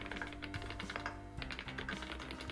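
Rapid clacky keystrokes on a mechanical keyboard, steady and continuous, close up with no talking.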